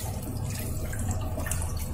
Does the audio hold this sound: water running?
yes